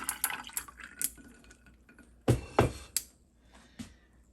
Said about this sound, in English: I am going to pour some into the cup